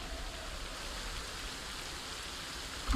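Steady rain falling in the Project Zomboid video game, a dense, even hiss of raindrops with no talk, ending in a brief louder bump.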